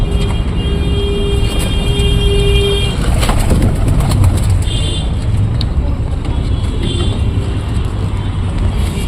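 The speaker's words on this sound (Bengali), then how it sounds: "আমি এরকমভাবে পায়রাকে খেতে দিই" Pigeons feed at a pigeon loft, with soft cooing and fluttering calls in a steady, dense wash of outdoor noise and passing traffic that continues throughout.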